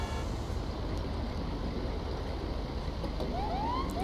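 Ambulance siren in GTA, a wailing tone rising in short sweeps near the end over a steady dense rumble of traffic and engine noise, receding into the background.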